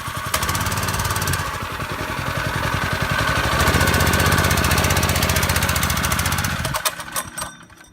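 Home-built drift trike with a small engine running rough and loud close by, a rapid hammering putter that swells under throttle, then sputters and dies near the end.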